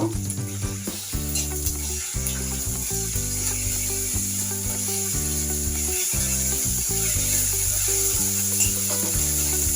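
Cumin seeds dropped into hot oil for a fish curry, giving a steady loud sizzle that runs on without a break under a constant musical backing.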